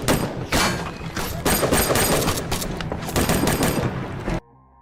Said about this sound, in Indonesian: Sementara itu, tim lain kembali terlibat baku tembak.